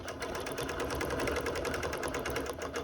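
A sewing machine stitches decorative yarn onto a quilt in a rapid, even mechanical rhythm, running close and continuous throughout with no voices.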